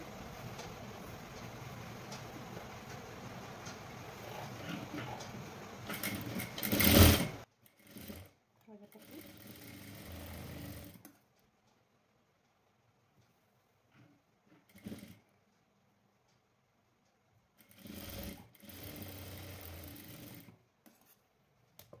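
Sewing machine stitching a lined blouse, running in a steady mechanical whir for several seconds, then stopping and starting again in short separate bursts amid near silence.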